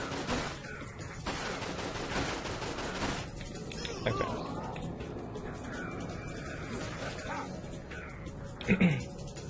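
Gunfire in the Dirge of Cerberus video game, dense crackling shots layered over busy game noise and music, with a louder burst near the end.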